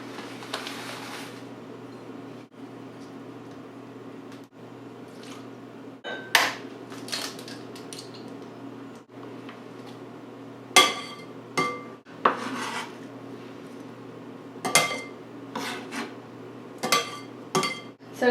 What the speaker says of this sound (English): So we're gonna mix everything together except for the bacon fat